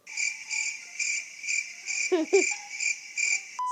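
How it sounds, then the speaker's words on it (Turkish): A cricket chirping sound effect pulses in a steady, regular rhythm of bright trills, close and clear, briefly interrupted by a couple of quick lower chirps. "Çekirge sesi"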